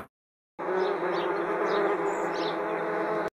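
Wasps swarm and buzz loudly after their nest is whacked with a baseball bat, a dense, continuous close drone starting abruptly after a brief silence.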